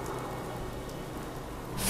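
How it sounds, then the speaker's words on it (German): Rain in the video game Fallout 4, a dense, steady patter filling the whole stretch at a constant level. "Oh, das mit dem Regen ist immer doof"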